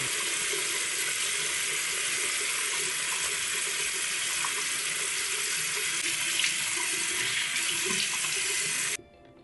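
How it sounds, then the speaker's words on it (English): Tap water running into a sink while a face is washed: a constant, close rush of flowing water that cuts off abruptly just before the end. "so I'm going to wash my face right now"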